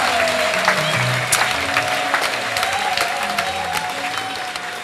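Church audience applauding steadily in a packed hall during a Lutheran church gathering, dense continuous clapping throughout with a faint tonal hum running beneath.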